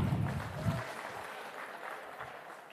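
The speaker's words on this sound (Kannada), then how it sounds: "ಓಕೆ, ಸೊ ಸರ್ಗೋಸ್ಕರ ಒಂದು ಚಪ್ಪಾಳೆ ಬರಲಿ ಅಲ್ವಾ?" An audience claps at a live bumper-draw event in Bangalore, with a brief burst of applause that fades into a soft hall murmur.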